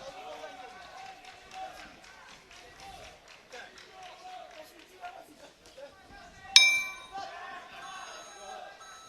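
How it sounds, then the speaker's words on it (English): A ringing boxing bell sounds once, sharp and bright with a lingering decay, marking the end of an 80kg men's bout at the IBA 2025 world championships, heard under continuous commentary and crowd noise. "And there goes the final bell."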